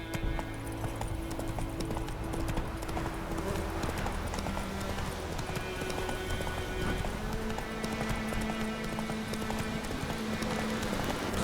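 Horse hooves clip-clop steadily at a gallop in The Witcher 3, the mount Roach running continuously over a layer of game music and ambient noise, with no talk.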